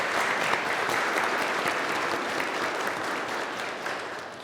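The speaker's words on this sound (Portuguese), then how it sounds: "uma salva de palmas aos visitantes." A congregation at Mass gives a warm round of applause for visitors, dense, even clapping filling the church for several seconds before easing slightly.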